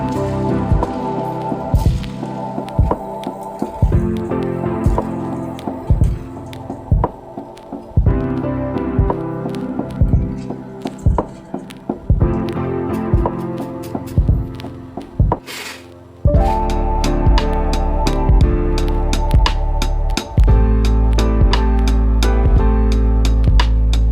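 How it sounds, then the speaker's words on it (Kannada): A puffed rice and potato snack deep-fries in oil over a low to medium flame, crackling and popping in irregular bursts that grow into a denser, louder sizzle. "ಆಮೇಲೆ ನಾವು ಇದನ್ನು ಲೋ ಟು ಮೀಡಿಯಮ್ ಫ್ಲೇಮ್ ಒಳಗೆ ಚೆನ್ನಾಗಿ ಇದನ್ನು ಫ್ರೈ ಮಾಡ್ಕೋಬೇಕು."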